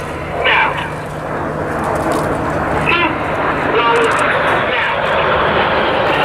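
Red Arrows jets perform the Revolution display manoeuvre at the 2017 Duxford Airshow, a loud, steady engine roar swelling and holding throughout, with voices heard over it.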